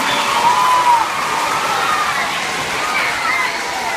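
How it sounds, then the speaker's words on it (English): Applause and cheering from a school audience for a student poet at a celebration, a steady wash of clapping with voices calling out over it. "give her one more round of applause"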